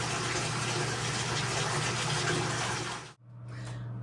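Water gushes steadily into a tub being filled for a soapy bath for a Cavalier King Charles Spaniel, a loud continuous rush that cuts off briefly and then resumes more quietly.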